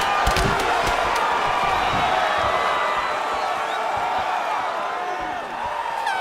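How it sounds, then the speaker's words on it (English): Packed arena crowd at a UFC fight roars and cheers continuously, a dense, loud wash of voices and whoops with scattered sharp claps and thuds, sustained for several seconds. "the crowd pops in appreciation as the fighters work their way back to the feet"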